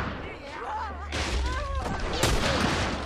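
Gunfire from The Last of Us video game, a couple of sharp shots ringing out over game music and effects, with a player talking throughout.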